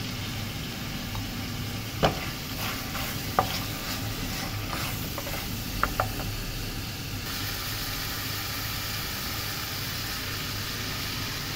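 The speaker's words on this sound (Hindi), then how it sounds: "टमाटर तो जी भुन गई है अब टमाटर में से थोड़ा भुनेंगे" Tomatoes frying in a pan with salt, chili and turmeric for a mutton liver dish, a steady close sizzle with a few sharp scraping stirs scattered through the middle.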